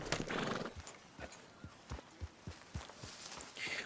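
Horse hooves clip-clop at a steady walking pace on a Red Dead Redemption 2 mountain trail, close and clear over a constant ambient wash, with a brief whinny near the start.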